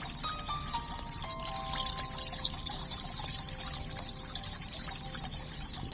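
Water trickles and pours steadily through a fountain puzzle video game, a continuous soft stream dotted with small bright plinks and ticks, with no voices.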